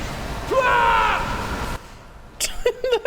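A T3 droid in the KotOR video game gives a struggling, dying cry: a warbling electronic whine that rises and wavers for about a second, then short chirping, voice-like bleeps near the end.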